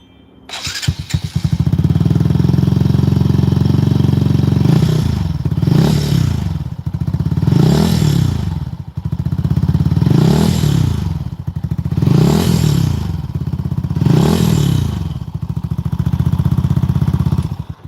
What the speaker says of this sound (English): this is the sound that this bike's making